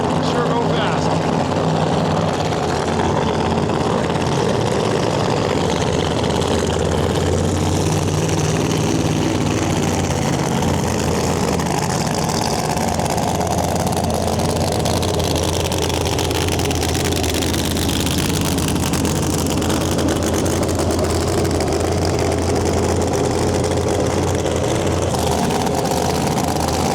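Screw-blower funny cars at a drag race in Western Canada, a sustained loud engine roar with a sweeping pitch as the cars pass, and a voice speaking over it.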